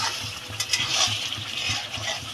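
Spiced masala frying for Pahari-style rajma: a steady, close crackling sizzle with faint scraping from stirring and no voices.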